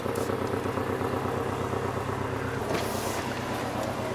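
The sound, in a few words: sports car engine idling with metallic ticking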